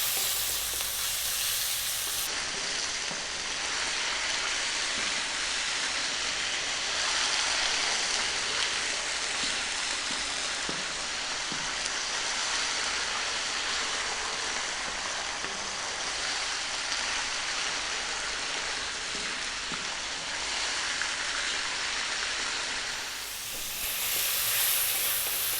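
Pork loin stir-frying in a pan over high heat gives off a steady, loud sizzle and hiss, continuous and close throughout with faint scraping of stirring, and no voices.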